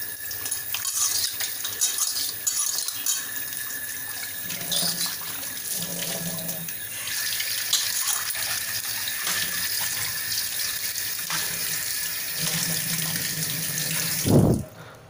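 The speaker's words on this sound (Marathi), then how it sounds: "आता आपण ही नळाखाली धुवून घेऊया।" Running tap water splashes steadily onto an iron kadhai being rinsed in a sink, a continuous close hiss with occasional clinks, swells and a sharp knock near the end.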